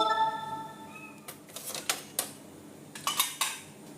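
Ceramic plates and dishes clatter and clink together in a series of sharp knocks, close by, with a brief ringing tone at the start.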